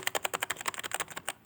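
A computer keyboard is tapped in a quick, steady run of about twenty crisp keystrokes, shift and arrow keys pressed to select text in Adobe Illustrator, close and clear with no voice.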